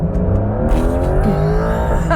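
A Porsche 911 GTS hybrid running and revving, its loud engine note climbing steadily in pitch at close range with a smooth, continuous drone.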